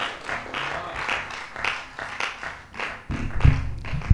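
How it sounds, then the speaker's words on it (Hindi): Audience at a Hindi comic poetry gathering (kavi sammelan) claps in honor of a poet, a scattered run of taps and claps at moderate distance, with heavier thumps and louder clapping near the end. "एक बार सम्मान में तालियां बजा दीजिए"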